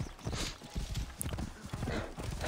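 Horse hooves clip-clopping in the video game Assassin's Creed Origins, a steady run of close, mid-loud hoofbeats with a brief whinny-like sound partway through.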